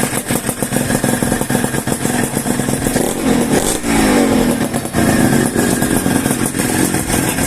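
Yamaha RXZ135 motorcycle engine running steadily and loud, a continuous mid-range drone with a brief rise in pitch near the middle, heard up close with no talking.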